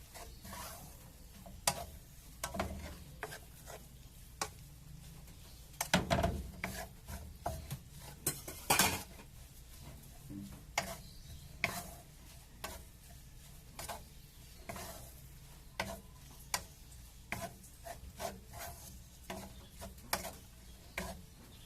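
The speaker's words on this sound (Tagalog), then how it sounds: "Haluin lang natin hanggang maluto." Pancit bihon noodles with squid and egg stirred in a pan, heard as quiet, repeated scraping and rubbing strokes of a utensil at a fairly even rhythm over a soft background hiss.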